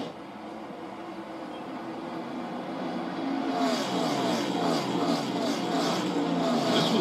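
NASCAR stock cars race at Las Vegas during the 2022 South Point 400, a steady roar of many engines heard from a distance that swells louder midway as a pack sweeps past and keeps rumbling.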